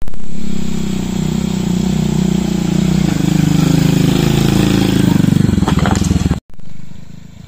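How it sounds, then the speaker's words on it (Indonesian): A motorcycle engine runs steadily with a low, throbbing mid-pitched rumble for about six seconds, then a brief rattling burst before cutting out abruptly, followed by a short muffled noise. "Mudah-mudahan motor saya ini bisa ke sana ya."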